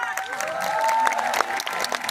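Audience applause at a live event in India, steady dense clapping from a crowd lasting throughout, with a tonal sweep and some voices mixed in.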